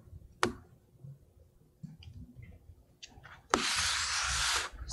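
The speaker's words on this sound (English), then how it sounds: "So I'm going to go ahead and hoop my stabilizer." Embroidery stabilizer is fitted into an embroidery hoop: a sharp click, then soft taps and a loud crinkling rustle of material lasting about a second.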